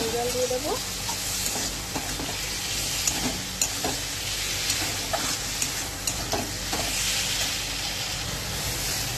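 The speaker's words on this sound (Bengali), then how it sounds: "এবারে গরম জল দিয়ে দেবো" Hot water goes into a pan of frying potato curry, leaving a steady hiss and bubbling simmer with occasional stirring scrapes, close and fairly quiet.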